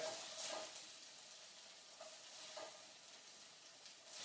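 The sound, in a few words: meatballs simmering and being stirred in sauce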